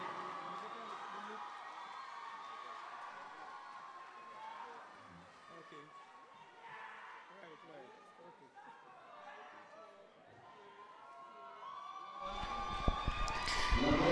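Crowd cheering and chattering after a carnival queen's stage presentation by the Northwest Laventille Cultural Movement, a broad steady roar of voices with a louder burst near the end.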